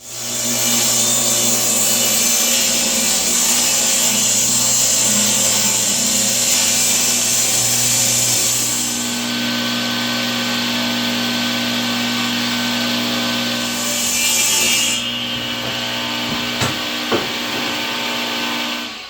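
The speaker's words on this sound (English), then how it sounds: "what you saw me cut there was 9-inch strips of 3/4 plywood" A saw rips 3/4 inch plywood sheets into 9-inch strips in a cramped workshop, a loud continuous whine that steadies and then shifts pitch as the cut changes, ending with a few knocks as the blade winds down.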